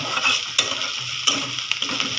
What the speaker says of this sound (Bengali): এই তো পেঁয়াজটাকে একটু ভেজে নিচ্ছি